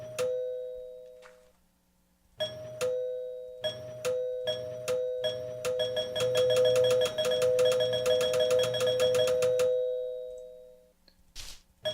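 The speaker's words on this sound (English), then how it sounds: "There was definitely a working doorbell there." A doorbell from the Home Decor mod in the block game Minetest rings out alone as a series of bright chiming tones, repeated several times in quick succession, then fading away.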